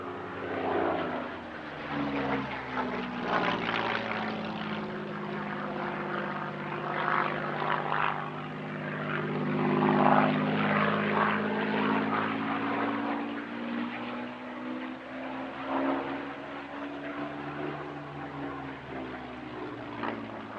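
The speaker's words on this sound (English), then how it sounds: "The Mark 16 is essentially identical to the Spitfire Mark 9, but powered by an American-built Packard Merlin 266" Spitfire Mk 16, built 1945 with an American Packard Merlin 266 engine, flies at an airshow, its steady piston-engine drone swelling and fading as it passes, moderately close and without any talking.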